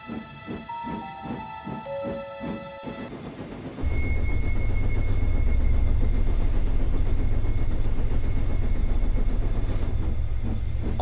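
A train's engine rumbles in steadily and loud, its low droning continuous after a few rhythmic chugs and a whistle-like tone at the start.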